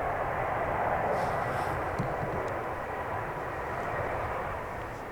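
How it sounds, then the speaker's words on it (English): A British Airways airliner touching down at Manchester Airport, a loud, steady broadband engine roar heard from some distance that eases slightly toward the end. "a very smooth landing there from the British Airways"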